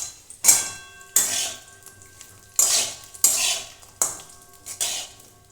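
Cashews and raisins frying with cauliflower in a pan for cauliflower pulao, heard as five or six separate bursts of clinking utensil scrapes and stirring against the pan over a low sizzle, fairly close and with no talking.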